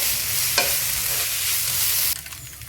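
A vegetable mixture stirred in a hot pan, with a continuous sizzle and spoon scraping for about two seconds, then a quieter, fading fry after the stirring stops.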